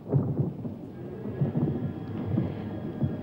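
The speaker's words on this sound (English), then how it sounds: "I think we're in for a bit of a storm." Thunder of an approaching storm rumbles low and heavy at a remote rural homestead, rolling in repeated deep pulses with faint rain beneath, steady and fairly close, with no voices.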